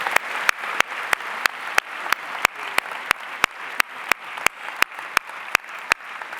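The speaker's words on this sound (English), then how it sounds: "Another round of applause for these scholars." Applause for honored scholars at a school honors convocation, with sharp, evenly spaced near claps standing out over a softer crowd clapping throughout.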